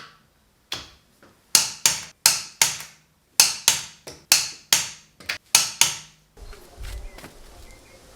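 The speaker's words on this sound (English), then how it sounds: "now I'll torque these and I'll go around to every tire" A torque wrench tightens wheel lug nuts on a Mercedes SL55 AMG, a series of about twelve sharp metallic clicks in quick rhythmic groups, close and loud, followed by faint rustling.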